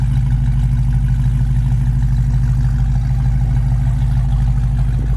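A 1968 Ford Mustang engine with dual exhaust idles steadily, a loud, close, even low rumble with a throbbing pulse that holds without revving.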